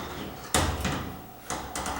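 A heavy door is lifted and swung into place on its hinges, giving two close, solid knocks about a second apart, each with a short rattling tail.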